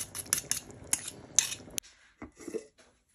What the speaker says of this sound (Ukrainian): Видавлюємо через чесникодавку.